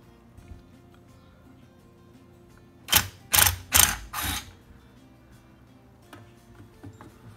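A quarter-inch wrench ratchets during the rebuild of a Thomas pond aerator pump, giving four quick, close bursts of clicking in a row, with faint handling noises before and after.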